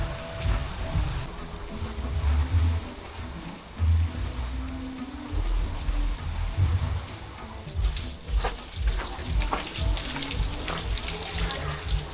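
Steady rain patters and splashes close by in a vegetable garden among string bean plants, a dense wash of water noise with heavier gusts of drops throughout and no talking.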